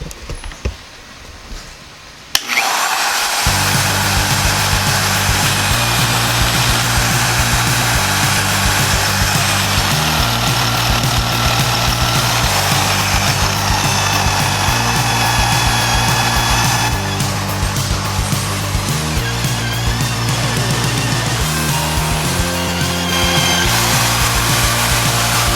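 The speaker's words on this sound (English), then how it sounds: "I got a 1 1/16 inch annular cutter on the mag drill here." A mag drill fitted with a 1 1/16 inch annular cutter drills through steel on a farm tractor front bumper, running loud and steady with a grinding motor whine and a rhythmic pulsing chatter for over twenty seconds.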